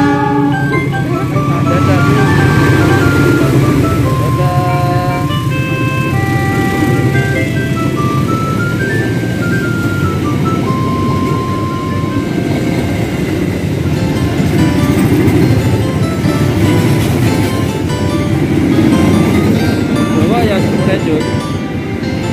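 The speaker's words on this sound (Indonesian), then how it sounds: "Keretanya panjang teman-teman, ada 8 gerbong kalau nggak salah ya" Long eight-car passenger train passing close by in the morning, a loud continuous rumble and rattle with melodic tones throughout, steady and unbroken for the whole stretch.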